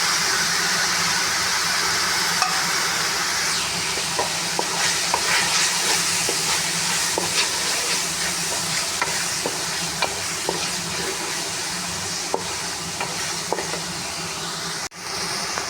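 Chicken fries with spices in a pan for macaroni pasta, a loud continuous sizzle broken by frequent scraping stirs and small clicks of the spoon, ending with a brief dip.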